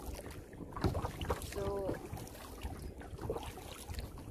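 Small wooden fishing boat paddled by hand across open water, with soft intermittent splashes and dips under steady breezy background noise, plus a brief tonal sound midway.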